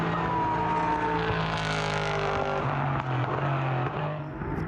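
Porsche 991 Cayman race cars in a GT sprint race at Portimão, engines roaring loudly and continuously with rising and falling pitch as they pass, a steady dense racing drone with no voices.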